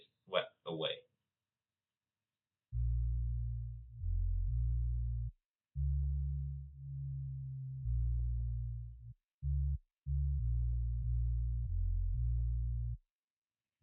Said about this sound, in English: now let me show you what it sounds like with the parametric EQ, where it gets swept away